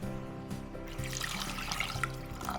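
Cold water pours from a tap into a pot of diced potatoes, a continuous close splashing gush that lasts a few seconds.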